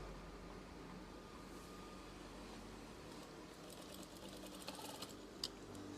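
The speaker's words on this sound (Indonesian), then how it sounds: "Setelah itu jahit." A sewing machine stitches curtain fabric with a soft, steady mechanical whir, faint and close, with a few small clicks near the end.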